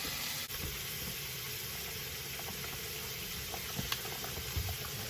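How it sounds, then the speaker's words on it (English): Steady bubbling of water boiling in a pot, a constant churning hiss with a few faint clinks, close by and uninterrupted. "Alright, now our water is boiling."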